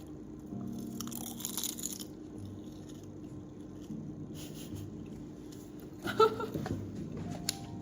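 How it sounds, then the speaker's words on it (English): Close, loud crunching of food being bitten and chewed comes in repeated bursts over a faint background hum. "Your crunch sounds loud as fuck."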